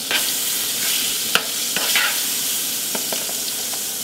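Spinach fries in a pan with a bright, steady sizzle, broken by several sharp scraping stirs and clatters from a utensil, close and loud.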